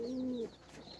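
A caught green female pigeon gives a single close, soft coo, a smooth low tone that fades after a moment into quiet background.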